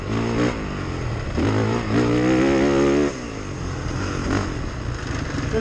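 A 2023 Honda CRF450R-S motocross bike rides around a track at a motorsports park, its engine revving up and dropping back in loud, close bursts.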